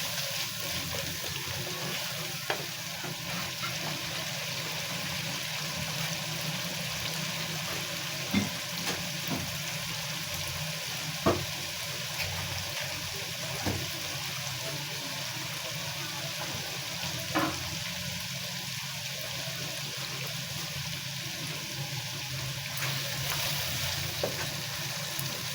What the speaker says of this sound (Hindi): अब हम पहले इसके अंदर अपने आलू मटर और मूंगरी और मटर डालेंगे।